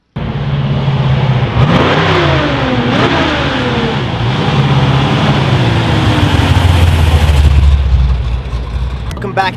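A Chevy big block engine in a 1971 Camaro RS SS 350 revs up and down several times, loud and close, with voices talking over it.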